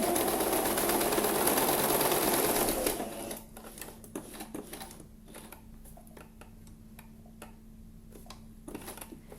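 A sewing machine stitches around a curve in a sewing practice exercise, running steadily and loud for about three seconds, then stopping. Light clicks and handling taps follow while the needle stays down in the fabric.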